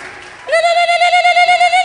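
A church congregation ululating in praise, a sustained high trilling cry that starts abruptly and holds loud and close with a rapid wavering pulse.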